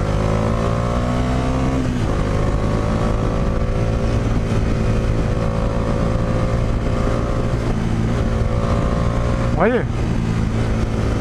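A liquid-cooled Bajaj Dominar 400 motorcycle engine hums steadily at close range, with pitch rising and falling through shifts and a sharp rev near the end, while someone talks briefly.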